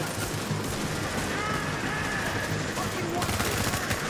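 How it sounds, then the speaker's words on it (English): Machine gun fire in the shooter game The Division, a steady stream of rapid shots over dense game noise, with a voice talking over it. "a machine gun right on the side of y'all"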